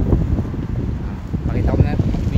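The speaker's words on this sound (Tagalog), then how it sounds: "Sarap-sarap ng hangin." Steady, loud wind buffeting the microphone while riding a Trinx folding bike around the Taipa area of Macau, a continuous low rumble without a break.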